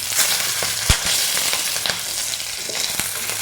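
Green chillies sizzling in hot oil with ginger and garlic while sardine pickle is cooked, a steady close frying hiss with scattered pops and crackles and no talking.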